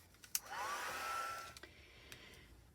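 A hair dryer blows steadily on a wet junk journal page, a close, even whoosh with a rising whine that runs for about a second before cutting off, followed by small handling clicks.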